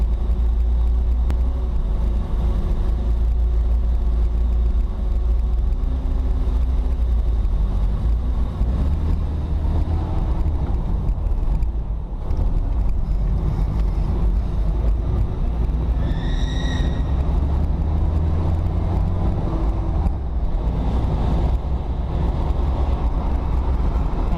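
A Toyota Corolla KE35 hardtop is driven on the road, with a continuous low engine rumble and road roar heard from inside the cabin and a brief high tone midway.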